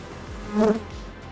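Bees buzz at beehives in a short close burst, a droning hum that swells briefly and fades against a low background, with no speech.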